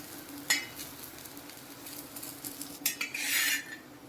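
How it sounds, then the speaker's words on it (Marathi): Green chillies and garlic sautéing in a pan, a low sizzle broken by a few sharp metallic clinks and scrapes of a utensil against the pan. "आणखी थोडंसं याला आपण परतून घेणार आहे की वाटायला आपल्याला सोपं होईल"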